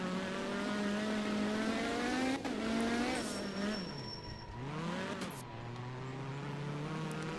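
Rally car in art of rally racing hard on a loose stage, engine revving high in low gear with wheelspin, pitch swooping up and down through slides and gear changes, loud and continuous with tire scrub.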